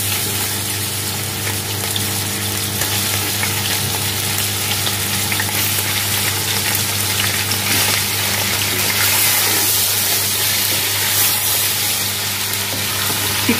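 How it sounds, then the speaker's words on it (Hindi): Chicken fries in a pan with garlic and ginger for makhani chicken handi, a steady loud sizzle and crackle running unbroken, with no voices. "और अब मैं इसमें डालूंगी चिकन।"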